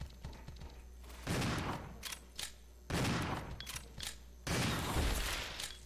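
Video game gunfire in Resident Evil 0 comes as three loud, rapid bursts of shots separated by brief pauses, with scattered single reports between them and no voices.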